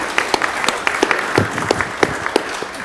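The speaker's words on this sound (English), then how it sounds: "let's give a round of applause" Applause from a conference audience after a panel on Tibetan Buddhism, fairly close and loud, with distinct individual claps in an uneven patter.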